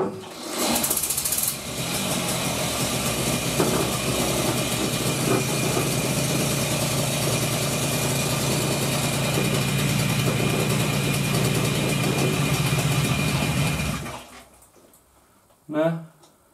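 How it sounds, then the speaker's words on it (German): A Zündapp 442 motorcycle engine, still cold, runs at idle with a steady, busy mechanical drone for about fourteen seconds, then cuts off abruptly, leaving near silence with a brief voice at the end. "Leerlauf will noch nicht so ganz, aber jetzt ist der Motor ja auch noch kalt."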